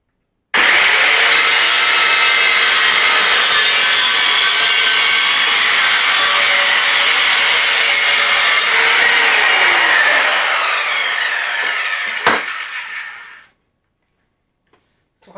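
An Evolution R185 CCS circular saw screams loudly and steadily through steel angle for about ten seconds, the pitch dropping near the end before the blade winds down to silence.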